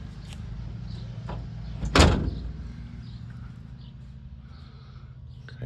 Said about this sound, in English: I'm gonna shut the door once.